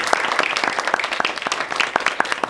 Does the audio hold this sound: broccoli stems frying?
no